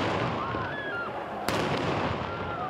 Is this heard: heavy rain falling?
no